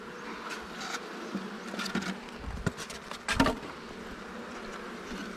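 Honeybees buzz around an open hive during an inspection, a continuous close drone with a few louder passes and soft handling knocks, and no speech.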